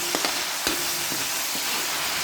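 Chicken breast frying in a little oil gives a steady, close broadband sizzle with a few sharp spatters and crackles, and no voices.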